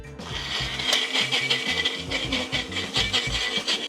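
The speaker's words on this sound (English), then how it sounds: "So all the vegetables into the NutriBullet, into the blender, whatever you've got." NutriBullet blender chopping vegetables with a little oil, a close, rattling whir with choppy bursts as chunks knock against the container, running steadily throughout.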